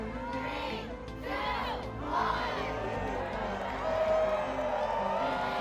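A large crowd cheers and shouts together right after a countdown to a solar eclipse at a public viewing event, a sustained roar of voices with whoops rising and falling over several seconds.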